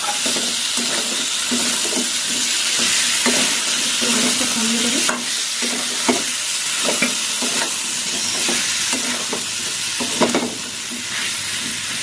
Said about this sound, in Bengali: কুঁদরিগুলো দেওয়ার পর মশলার সাথে কষিয়ে নেবো